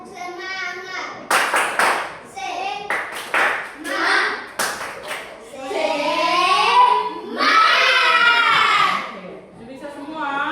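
Children in a classroom perform the rhythmic tepuk semangat clapping chant, bursts of sharp claps alternating with chanted young voices in a patterned call, loud and close.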